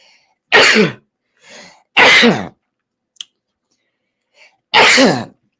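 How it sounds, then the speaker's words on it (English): Three sharp, loud sneezes close to the mic, spaced a second or more apart, with faint breaths and small noises in between. "hold on, I'm about to sneeze, I think"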